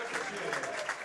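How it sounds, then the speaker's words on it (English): Steady applause from a standing ovation in a gym crowd at a boys basketball game between New Knoxville and Marion Local, with a commentator talking over it. "He gets a standing ovation."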